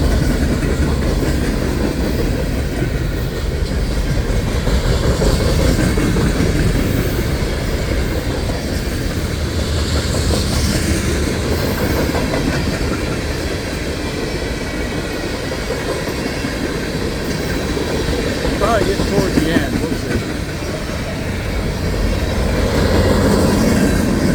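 A manifest freight train carrying maintenance-of-way equipment rolls past on the rails in a loud, continuous rumble with faint clickety-clack and occasional wheel squeal, close by and steady throughout.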